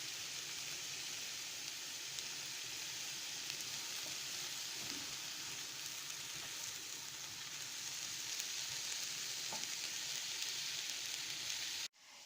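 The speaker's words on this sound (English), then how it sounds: "now I'm going to fry them very gently with the pre-caramelized onions" Sliced mushrooms frying gently with caramelized onions in a pan, a soft, even, continuous sizzle held steady throughout, close and without talk, cutting off at the end.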